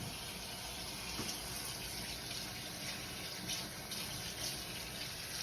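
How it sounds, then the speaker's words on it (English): Fresh water streams steadily into a cooking pot for molokhia, a continuous close splashing pour with no voices. "you add fresh water to the pot"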